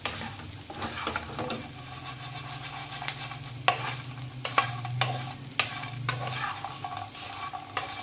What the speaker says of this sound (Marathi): आता आपण जे पकोडे केले होते ते टाकून घेऊया त्यामध्ये आणि त्याला मिक्स करून घ्यायचं.